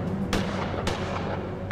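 A weapon fires during a training sequence in the Gemini Rue video game, with two sharp, loud shots about half a second apart over a steady game background.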